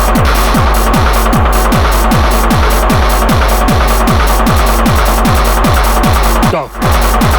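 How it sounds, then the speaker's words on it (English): A 4ms Meta Module synthesizer module using modal synthesis pulses in a fast, regular rhythm of resonant, plucked-sounding tones over a low drone, loud and close, briefly dropping out near the end. "I love modal synthesis."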